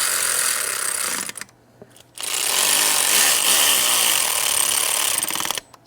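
Bolts on a Mercedes oil cooler are run in with a power tool, producing loud, continuous, rapid rattling that pauses briefly and then resumes at close range.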